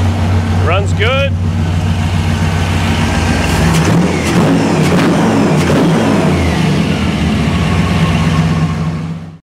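A fuel-injected 1955 Chevy Nomad engine revs up loudly and close, rising from a steady idle into sustained higher-RPM pulls, with a brief bit of talk heard near the start.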